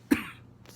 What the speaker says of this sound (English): we are all coughing in our house